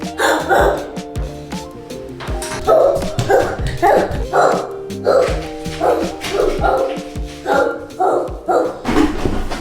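A young child imitates a dog, letting out a steady run of voiced yapping barks in quick succession, close and loud. Some barks have a whiny, whimpering edge.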